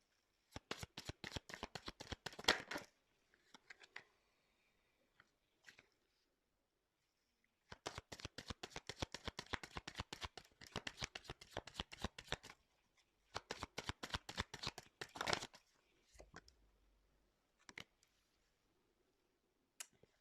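Tarot cards shuffled by hand before a reading: crisp bursts of rapid riffling clicks in several separate runs with short pauses between them, close and clear, and no talking.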